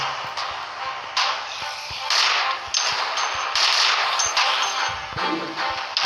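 Rapid bursts of gunfire in a zombie shooting video game, loud sustained automatic volleys broken by brief pauses and scattered single shots.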